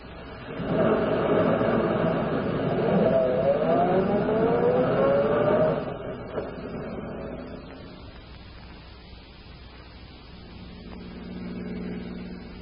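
Car driving sound effect in an old-time radio crime drama, a sustained engine drone with a rising whine that swells, then eases off into a quieter rumble.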